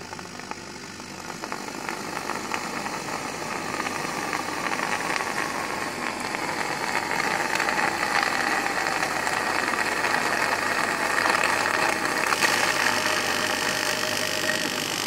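A rotary compressor runs with a steady, continuous mechanical hum and buzz while it draws in oil, holding a fairly even level throughout the clip.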